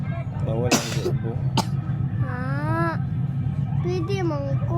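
A child coughs a few short, sharp times, mixed with a young voice speaking and whining over a steady low background hum.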